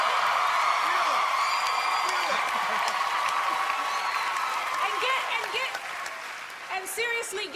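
A television singing-competition audience applauds and cheers loudly, with whoops and crowd voices over the steady clapping, which thins slightly toward the end.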